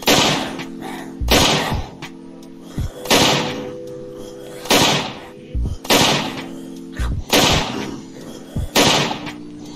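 Sniper rifle shots in the game Unturned fire in a steady series of about eight loud, sharp cracks, each trailed by a short decaying echo and mechanical clatter, spaced a little over a second apart.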